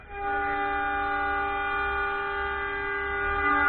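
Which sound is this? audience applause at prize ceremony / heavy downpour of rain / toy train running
toy train running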